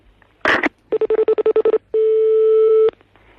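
Telephone dialing tones sound up close: a quick burst of sound, then a rapid run of about ten short keypad beeps, followed by one steady, sustained tone lasting about a second.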